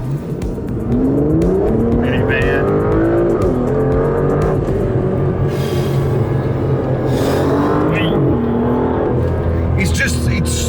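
An Aston Martin sports car engine revs and pulls hard with a rising roar, loud and close, while someone talks over it.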